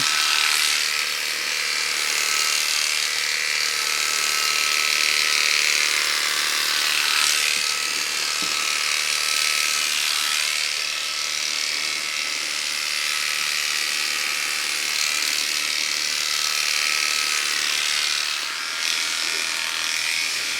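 Electric clippers with a 1-inch blade trimming an Old English Sheepdog's coat, a continuous, close motor buzz whose pitch shifts slightly as the blade moves through the fur.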